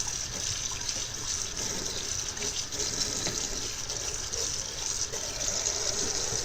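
A sink tap runs steadily for washing a paint brush, a close, loud and even rush of water lasting throughout, with no talk.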